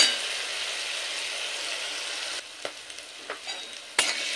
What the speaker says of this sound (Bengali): এবার আদার সাথে ছোলা ভালো করে কষিয়ে নেব